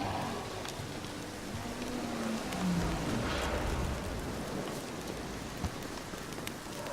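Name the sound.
rain in the video game The Witcher 3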